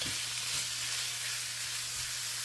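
One pound of ground beef frying in a pan, a steady, even sizzle with a low hum beneath it, heard close and alone with no talk.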